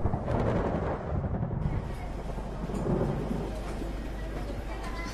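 Thunder from a lightning strike rolls as a loud, deep rumbling that swells and lingers throughout, with a faint crackle near the start.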